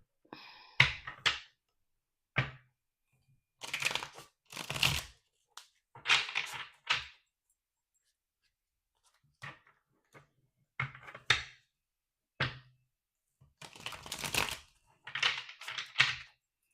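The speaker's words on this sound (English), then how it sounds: "One more shuffle" Several bursts of riffling and slapping tarot cards, quick crisp flutters separated by pauses, close and fairly quiet with no talking.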